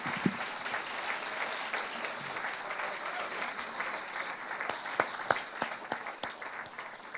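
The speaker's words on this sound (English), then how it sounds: "let's give them all another round of applause" A banquet audience applauds alumni association honorees, a dense, sustained round of clapping in a large room with a few sharper individual claps standing out near the end.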